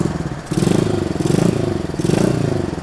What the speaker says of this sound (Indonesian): Kalau menurut gue sih masih aman nih dengan bunyi knalpot kayak gini.